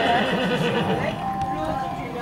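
Horses near an entrance neigh and whinny, with some hoof clip-clop, heard close over a busy background while people talk.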